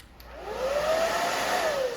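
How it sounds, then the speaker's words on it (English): A blow dryer runs loudly and close during a pixie haircut, a steady whooshing hum with a whining motor pitch that rises and holds, with no voices. "sorry, Connie, I'll get it off with the blow dryer"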